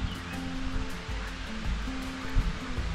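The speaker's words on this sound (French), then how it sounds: "Et là, on commence à entendre la cascade qui va clôturer cette vidéo." A waterfall roars as a steady broadband rush, heard from a kayak on a river with a lake nearby. Its low continuous wash carries faint rumbling underneath, with no talking.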